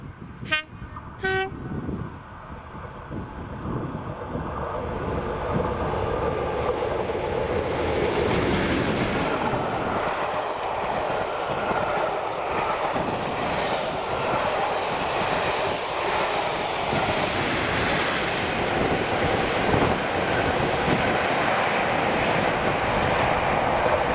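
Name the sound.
Class 37 diesel locomotives 37516 and 37403 hauling train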